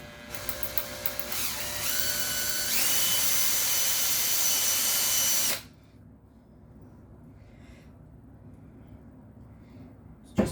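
A power drill whines on a PS90 barrel shroud, starting with a few short bursts, then spinning steady and rising in pitch before abruptly stopping, leaving a quiet background.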